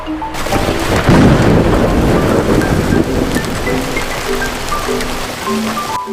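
Thunderstorm with heavy rain during the rainy season: a loud, close rumble of thunder rolls over a constant hiss of downpour and gusty wind buffeting the microphone, with no voices.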